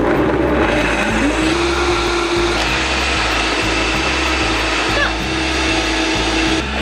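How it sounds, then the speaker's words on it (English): A blender whirs steadily as it purees cashew cheese for a vegan zucchini alfredo, a loud continuous motor drone running throughout with slight shifts in pitch. "all I'm gonna do here is blend this, and then we've got the cashew cheese."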